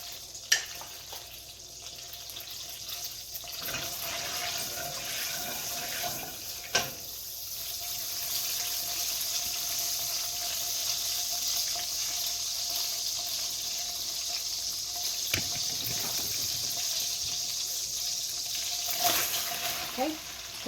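Butter and olive oil bubbling in a pan, a steady hissing sizzle that runs throughout, with a few sharper pops and clicks rising above it.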